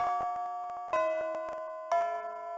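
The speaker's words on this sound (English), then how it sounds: "the bell signaling the end of class rings" A chiming electronic school bell in the Fate/Extra video game marks the end of class, ringing out in three bright, sustained tones about a second apart, each fading slowly, with no voices.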